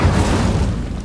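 Incendio fire spell cast in Hogwarts Legacy, a short, loud, booming burst of flame with a deep roaring body that fades slightly over about a second.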